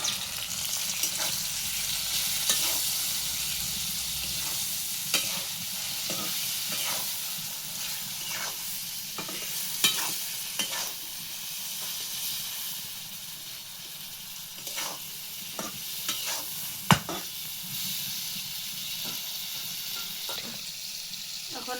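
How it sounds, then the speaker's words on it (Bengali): Tomatoes hit hot oil in a fish curry base and sizzle steadily, a continuous bright frying hiss broken by repeated sharp scrapes and clinks of stirring, close and without talk. "এখন আমি টমেটো দিয়ে দিলাম।"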